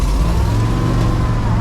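1968 Ford F250 pickup truck backing up, its engine holding a loud, steady low rumble at close range throughout.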